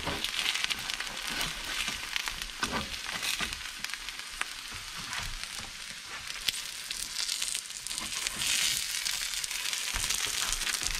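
Eggs frying in a pan for an over-easy breakfast give a steady, close crackling sizzle with small pops, continuous throughout and with no voices over it.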